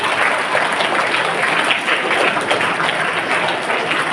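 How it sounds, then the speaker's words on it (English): A crowd at a grand welcome event applauds the guest of honour, with loud, dense, continuous clapping filling the space evenly for the whole stretch. "Let's have that a huge round of applause for sir"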